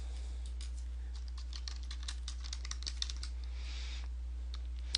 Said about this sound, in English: So I'm going to type in John Deere.